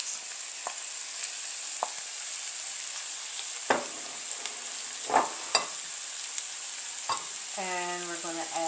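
Broccoli hits hot duck fat alongside cooked onions, setting off a steady, bright sizzle with a few sharp clacks of a utensil against the pan and a brief scraping near the end.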